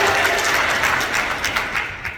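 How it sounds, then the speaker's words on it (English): A roomful of people clapping continuously, a dense close wash of applause that thins slightly toward the end. "John, give her a real round of applause."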